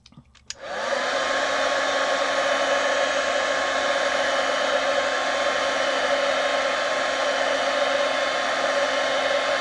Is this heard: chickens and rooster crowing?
no